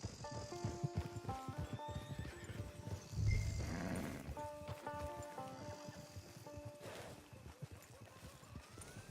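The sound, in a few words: horse in video game Red Dead Online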